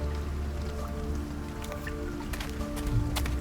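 Steady rain falls on a city street at night in World of Goo 2, a continuous close patter with scattered drips and taps over a low rumbling background.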